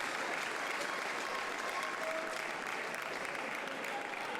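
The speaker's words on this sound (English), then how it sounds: "Anton Schallberg and Christian Karlsson cheering onwards" A crowd claps and cheers steadily through a table tennis match at the 2019 European Championships team event, a dense, sustained applause filling the hall.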